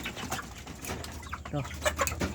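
Brahma chickens in a backyard, making soft clucks and low cooing calls close by, scattered irregularly over a quiet outdoor background.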